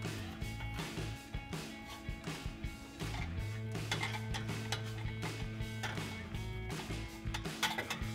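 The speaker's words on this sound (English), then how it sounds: "we can go ahead and snug that up with our 15 mil socket" A ratchet with a 15 mm socket snugs up an exhaust clamp on a RAM 1500 truck, a close series of rhythmic clicking pawl strokes over a low steady hum.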